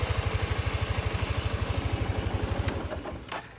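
A Suzuki Burgman scooter idles on its center stand with a steady, rapid low throb, close and even, before the engine note loosens and fades toward the end.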